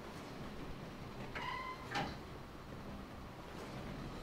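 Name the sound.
train car door sliding open in a video game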